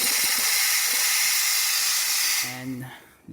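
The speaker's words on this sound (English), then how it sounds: "So starting with the steamer, really powerful, working extremely well." Powerful steam wand on an espresso machine, just serviced after a no-water fault, hisses loudly and steadily for over two seconds, then drops in level and gives way to a brief low tonal gurgling rumble.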